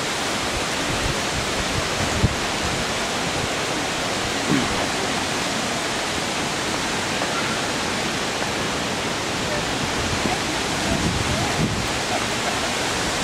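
Steady, broadband rush of flowing creek water filling the scene, loud and continuous with no pauses, heard close by at Hamilton Pool, Texas.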